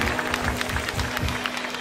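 Applause from a comedy show audience cheering for mothers, a steady wash of many hands clapping in the crowd for the full stretch without a break.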